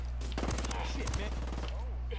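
Bursts of gunfire from a firefight in Ghost Recon Wildlands, with several sharp shots and rapid volleys over a steady low background hum, while a person talks.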